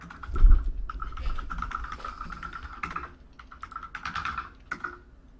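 Keys clatter on computer keyboards during an online tabletop game session, one player typing lightly and another hammering harder, in irregular bursts close to the mic with no talk.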